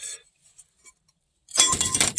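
Pieces of glass melted in a Chrysler minivan vehicle fire are picked up and shifted, giving a brief burst of close, bright clinking and scraping after a mostly quiet start.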